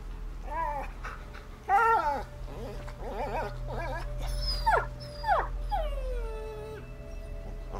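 A dog whimpering and whining in A Plague Tale: Innocence, a string of high, wavering cries and yelps over a steady low rumble, growing into longer drawn-out whines toward the end.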